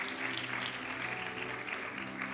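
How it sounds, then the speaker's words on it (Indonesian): Congregation clapping during a church service, a faint, even wash of many hands with a low musical hum underneath. "Oh, kasih tepuk tangan yang luar biasa"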